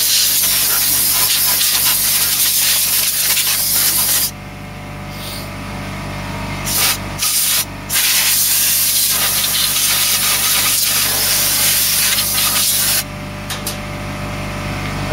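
An air compressor blasts compressed air through a Cube Computer Nexgen Deluxe PC, a loud, harsh, continuous hiss broken by a few short pauses as the nozzle stops and restarts.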